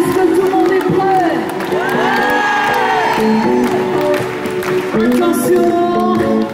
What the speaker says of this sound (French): Alors, allez, on va vous applaudir très, très, très fort.